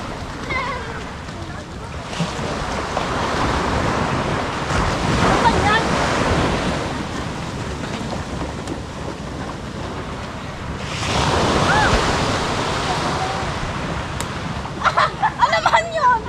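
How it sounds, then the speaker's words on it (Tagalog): Sea waves washing against the shore, a steady surf wash with heavy wind buffeting the microphone and a louder swell surging midway, heard alone without talk. "Ito kami gilid ng dagat."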